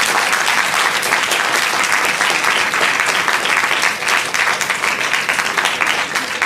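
A theatre audience in Lucknow gives the dancers a loud, dense round of applause that holds steady for several seconds without talking.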